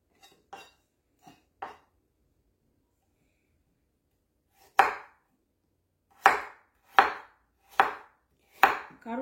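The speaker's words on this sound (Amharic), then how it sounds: "ካሮቱን እንደዚህ ከከተፍኩት በኋላ" A knife chops carrot on a cutting board for a vegetable pancake, giving a few light cuts followed by a run of four or five sharper, louder strokes in steady rhythm, close up with no talking.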